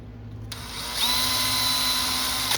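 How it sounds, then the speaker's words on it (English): A power drill bores a full-depth screw hole for a strap button in a guitar body: it whirs up after a short quiet, then holds a steady, close, high whine that tightens in pitch as the bit bites in. "and I can take and drill that full depth."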